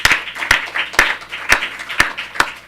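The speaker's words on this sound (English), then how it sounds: "we need to give the students a round of applause because they did a hell of a job." A small group of people clapping for students, heard as a sparse, uneven run of sharp hand claps arriving roughly every half second, close and moderately loud, with no talking.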